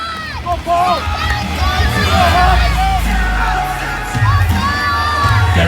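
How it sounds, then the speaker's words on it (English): An outdoor crowd cheers and shouts to urge on a competitor pulling a 23-tonne truck at a truck pull championship. The cheering is loud and sustained, with excited yells rising above the babble. "There is some encouragement here from the crowd."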